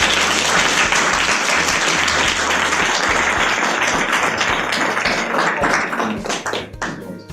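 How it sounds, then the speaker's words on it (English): A lecture audience gives a professor a round of applause, dense sustained clapping from many hands filling the room before thinning out near the end. "let's give him a round of applause"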